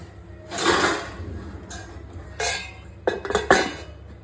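A lid set down over a bowl of resting yogurt-based murukulu dough in a home kitchen, heard as a few clattering, clinking knocks of cookware at close range with quiet pauses between them.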